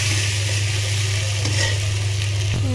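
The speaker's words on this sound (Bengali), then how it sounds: "ভালো করে এখন মিশিয়ে কষিয়ে নেব।" Fried prawns are stir-fried in a pan, a loud, continuous sizzle with scraping of the stirring utensil throughout.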